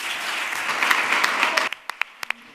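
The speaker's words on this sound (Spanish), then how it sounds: "muchas gracias a todos por vuestro aplauso" Audience applause at a flamenco award ceremony: a dense, steady patter of clapping that stops abruptly near the end, leaving a few scattered late claps.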